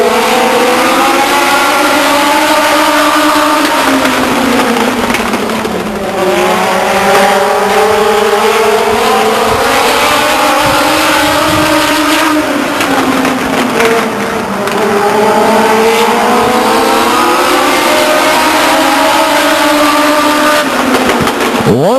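Legends race cars roar around Stockton 99 Speedway in a tight battle for the lead on the final lap, engines droning loudly and continuously with rising and falling pitch as the pack sweeps through the turns.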